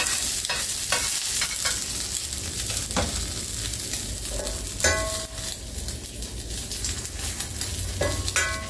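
Eggs sizzling in a hot pan at a market grill, a constant close frying hiss with scattered sharp scrapes and utensil taps, no talking.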